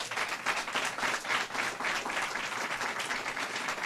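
An audience applauds at a New Jersey governor's bill signing for food security legislation, a dense, steady round of clapping from a sizable crowd lasting several seconds with no talking over it.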